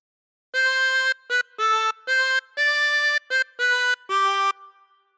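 A reedy chromatic harmonica plays a short phrase of eight notes from All Through the Night, some held and some clipped, clear and close with no talking.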